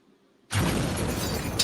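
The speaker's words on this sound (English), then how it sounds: "Explosions." A sound-effect explosion bursts in after half a second of near silence, then rolls on as a loud, sustained broadband rumble with a brief sharper crack near the end.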